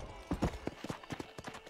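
Horse hooves in Red Dead Redemption clop in a quick, uneven rhythm of distinct thuds, fairly close and moderately quiet, with no talking over them.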